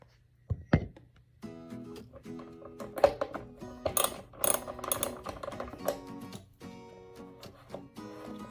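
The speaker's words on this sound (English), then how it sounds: "You want to get your wrench, 8mm, and then undo this here." An 8mm wrench working a nut loose on a Kenwood Chef Titanium mixer, giving a string of close metallic ratcheting clicks and knocks of uneven rhythm after a brief thunk, with no speech.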